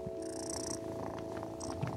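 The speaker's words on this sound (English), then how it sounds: "It sounded like purring." A cat purrs steadily and close up for about two seconds, a continuous low rumbling purr with no talking over it.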